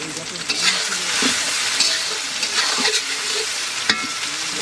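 Garlic, ginger and chili paste with salt fry in a pan for a village-style mutton curry, crackling loudly and up close while a spoon stirs with scrapes and a few metallic clinks.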